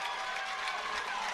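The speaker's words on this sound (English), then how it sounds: "3 consecutive goals for the Trojans of Lassiter, and the crowd lets them know about it" A crowd cheers and applauds at a high school boys lacrosse championship after a goal, a steady wash of distant clapping and shouting with faint talk mixed in.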